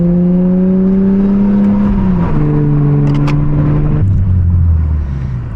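A Toyota Camry TRD drives along, its engine droning steadily with audible gear shifts, the pitch stepping down around each change, close and fairly loud with no talking.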